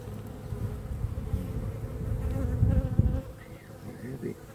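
Honeybees drone in a dense, steady buzz from an open hive in Grandma's beeyard, close and fairly loud, swelling slightly before easing off near the end.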